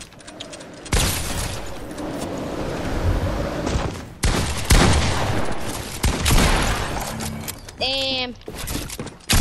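Bursts of gunfire in Fortnite, with loud, clustered shots in several volleys between pauses and a player speaking over them.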